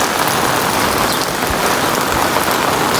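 Heavy cloudburst rain in Varal village, a loud, dense and continuous roar of downpour hitting surfaces close by, with no voices.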